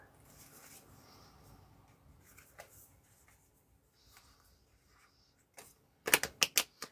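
A deck of picture cards riffle-shuffled, a few quiet rustles followed by a loud, fast burst of crisp clicking flutters near the end.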